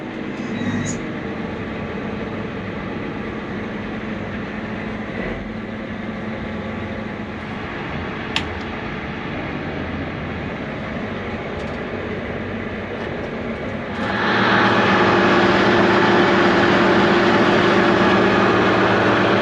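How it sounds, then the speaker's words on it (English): A Versatile 4WD tractor diesel engine runs with a steady low drone, then fires up louder partway through and keeps rumbling at a higher, heavier level, close by with no talking. "So I'm going to start the tractor and check for oil leaks."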